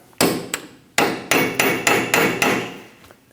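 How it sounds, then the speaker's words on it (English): Hammer blows on a chisel staking the axle nut of a Scion xB: about seven sharp metallic strikes, irregular at first then in a quicker run, each ringing briefly, close and loud with no talking. "Using a chisel and a hammer, we're going to stake our axle nut"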